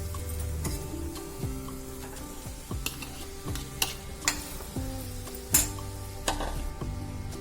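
Salted potato filling for bread patties is mixed in a pan, with a spoon scraping and knocking against the metal in repeated strokes about once per second over a faint background hiss.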